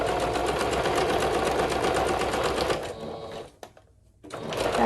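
A sewing machine running a steady, fast back stitch on elastic for slim joggers, close and continuous, then slowing and stopping near the end with a brief pause before starting again.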